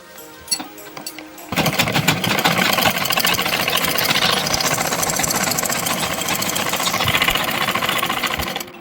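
A sewing machine stitches a kurta sleeve. After a quiet start with a few light clicks, a loud, close, rapid mechanical whir runs steadily to the end.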